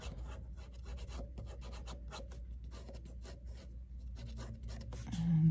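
A pencil sketches wood grain onto a fence in a bird house drawing, with quick repeated scratchy strokes on paper in a steady rhythm, close and clear with no talking.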